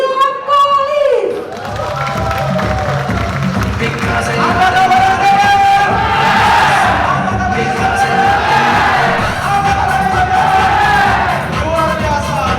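A hall audience welcomes Mr William Collins, a motivator, at a 2019/2020 AOC Championship event with loud, sustained crowd noise: cheering, whoops and clapping that swell together and hold steady for several seconds.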